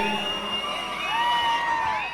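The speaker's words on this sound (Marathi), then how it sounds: "आज आपण पाहतो या ठिकाणी डीएन रिसॉर्टचे पाठीराखे जल्लोष करतायत" Kabaddi supporters of the DN Resort Satirje team cheering at a match, a sustained crowd roar with whoops and shouts rising and falling across the moment.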